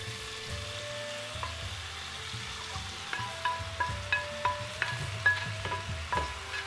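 An Asian stir-fry with chopped coleslaw vegetables sizzles steadily in a pan as cooked eggs are added, with a rising series of rhythmic scraping and tossing strokes from a utensil over the frying hiss.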